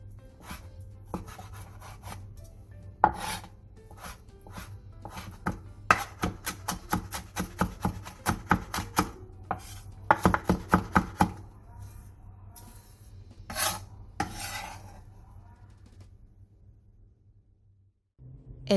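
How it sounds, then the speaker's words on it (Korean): Knife chopping and mincing vegetable trimmings on a cutting board for Korean donggeurangttaeng patties, a fast run of sharp, close chops in bursts over a low steady hum, then tapering off. "잘라낸 재료들은 적당한 크기로 다져 동그랑땡 재료로 넣어주세요."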